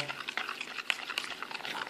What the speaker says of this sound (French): je mélange juste avec une cuillère et c'est suffisant